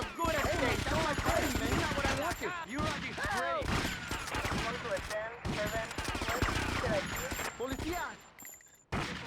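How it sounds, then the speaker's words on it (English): Rapid, loud gunfire bursts from GTA: Vice City combat, shotgun blasts among repeated shots and thumps, continuous under a talking voice throughout. "Shotgun is literally the best gun in the game."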